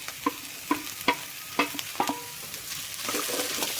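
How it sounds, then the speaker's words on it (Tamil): A spoon stirs onions and vegetables frying in a pan, giving several distinct knocks against the pan over a steady close sizzle, with no talk. "காய் சேர்த்துட்டு நல்லா கலந்து விட்டுக்கோங்க."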